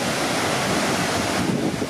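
Loud, steady roar of crashing water at Murchison Falls in a national park gorge, a dense continuous rush with no pauses and no voices.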